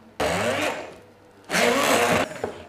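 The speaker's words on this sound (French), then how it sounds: "Je mixe le tout au mixeur plongeant." An immersion blender whirs loudly in two bursts, each about half a second or more, blending chestnut purée with candied chestnuts for a chestnut Yule log cake, with a quieter hum and rattle in the pause between.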